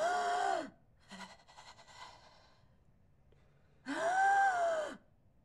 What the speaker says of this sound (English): You will also hear a rattle